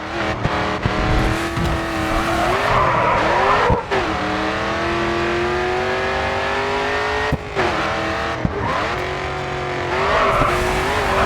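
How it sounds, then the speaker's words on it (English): Car drifting in the racing game Grid 2, engine droning loudly and steadily with rising and falling pitch as the back end slides, tire noise running underneath, a few brief dips in level along the way. "Back end slipping, steer into the drift."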